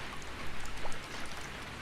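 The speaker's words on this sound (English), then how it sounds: "I heard the sound of rain pattering on the rooftop and the raindrops jumping into puddles." Rain patters on a rooftop and drops splash into puddles during a brief downpour at a bus stop in the video game Higurashi, a soft, steady hiss with scattered faint ticks.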